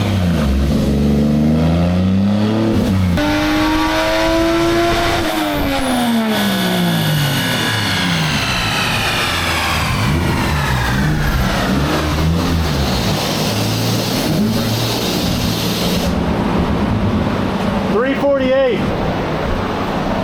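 A car engine on a dyno with the boost controller turned up, revving hard through rising and falling sweeps that climb again in a long loud pull, with a steady roaring wash close by.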